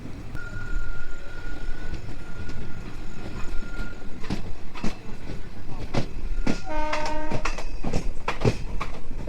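The Balurghat–Howrah Express rushes along non-stop with a constant rumble and repeated sharp clacks of wheels over rail joints, plus a brief tonal squeal near the start.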